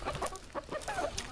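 Chickens kept alongside turkeys cluck in a short burst, several soft overlapping calls close by, fairly faint, with no talking.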